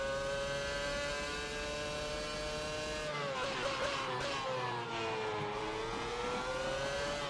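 A Formula 1 race car engine in the Assetto Corsa racing video game, a high sustained whine with rising and falling pitch through shifts and corners, steady and loud throughout with no talking.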